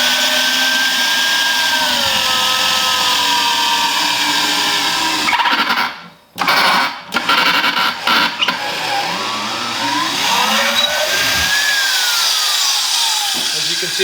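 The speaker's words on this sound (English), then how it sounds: "Take a drill bit, whatever size you believe is going to be big enough to get your wire through." A power drill grinds steadily through lead, boring a hole, with a brief pause and stutter midway as the bit binds before the whine resumes and runs on.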